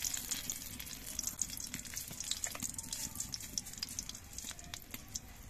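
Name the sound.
dried red chillies frying in hot oil in a wok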